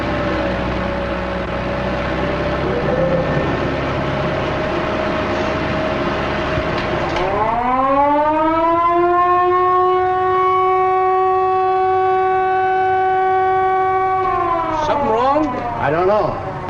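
A siren swells up and holds a loud, steady wail for several seconds, then drops away, over a busy background.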